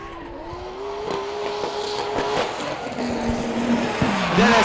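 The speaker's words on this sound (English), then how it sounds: "Dennis on the S2000 again for this last qualifying run. Brilliant noise this car is making, amazing." A Honda S2000 drift car on a qualifying run at Yas Marina in Abu Dhabi revs its engine with a steady high pitch, then tires squeal in rising and wavering tones as it slides, growing louder toward the end.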